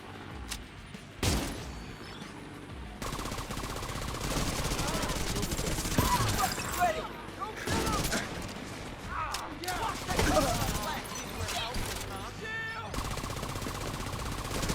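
Gunfire in a Division 2 video game cutscene: rapid automatic bursts and single shots crackle throughout, mixed with explosions and booms, while voices shout over the firefight.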